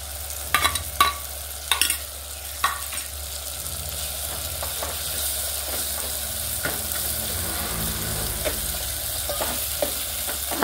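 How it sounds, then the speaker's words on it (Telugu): Ginger garlic paste frying in a pan with tomatoes for Andhra-style spicy mutton curry, a continuous sizzle punctuated by a few sharp spoon clanks and stirring scrapes early on, no talking. "అల్లం వెల్లుల్లి పేస్ట్ వేగుతుంది"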